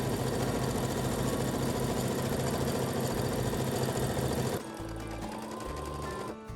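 A sewing machine stitches a second line 0.7 cm in to enclose a raw edge on a bias-cut dress. Its loud, continuous whirring drone shifts to a slightly lower, steadier hum near the end.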